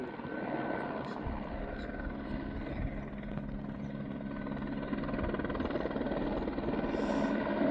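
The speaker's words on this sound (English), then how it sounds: "Helicopter scooping up water." A helicopter hovering low over a reservoir to scoop water for fighting a moorland fire, giving a steady, loud rotor and engine drone that holds constant throughout with no talk.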